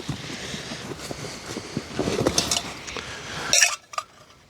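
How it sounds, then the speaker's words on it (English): A metal billy can and its lid clink and rattle against each other in a series of light metallic knocks outdoors, ending in a sharp clack as the lid is set in place. "My billy can and its lid"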